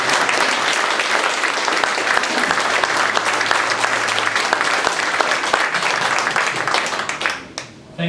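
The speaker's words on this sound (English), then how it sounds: "Firstly, a round of applause." An audience at a foreign investment forum on residential real estate applauds with dense, sustained clapping that fills the room, then fades near the end before a brief rise.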